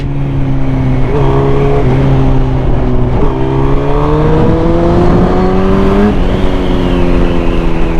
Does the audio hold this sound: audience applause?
no